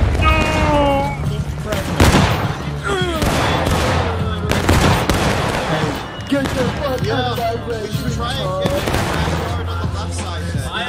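Rapid video-game gunfire crackles in repeated bursts throughout, loud and busy, while voices talk over the shooting.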